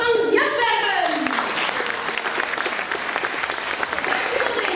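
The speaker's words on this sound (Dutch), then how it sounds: "En graag een applaus." Audience applause at a Frisian village gathering with a family quiz, steady clapping filling the room after a voice at the start, sustained and fairly loud throughout.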